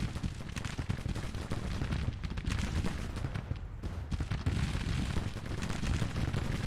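Dense Civil War battle gunfire from Grand Tactician: massed musket volleys and rapid shots crackle continuously at steady loudness, forming a dense, rolling barrage with no talk over it.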